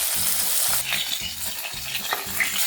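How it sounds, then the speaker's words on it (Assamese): Potatoes and fish fry together in a pan under a constant sizzle of oil, with a steady rhythmic hum pulsing about once every half second beneath it and occasional utensil clicks. "এতিয়া মই আলু পিটিকিৰে সৈতে মাছে সৈতে একেলগে গোটেইখিনি ভাজ খাই যাব"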